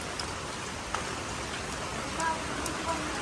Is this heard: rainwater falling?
yes